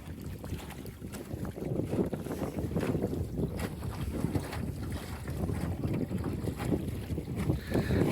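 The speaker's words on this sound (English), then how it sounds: "Comes a gust right there." Wind gusting hard across the microphone while sailing an outrigger canoe, a steady rushing roar with low buffeting and faint water wash beneath, loud and continuous throughout.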